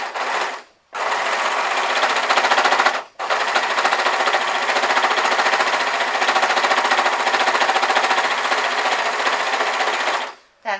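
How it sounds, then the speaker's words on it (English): An overlocker stitching fleece fabric for a beanie hat, a loud rapid mechanical whirr running in long bursts with brief pauses between, close up. "Now, the overlocker. If you do get a chance to borrow one of these, then go for it."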